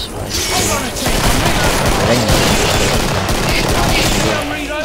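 Rapid machine gun bursts rattle loudly and continuously in the video game Killing Floor, dense overlapping shots with a player's voice talking over the gunfire.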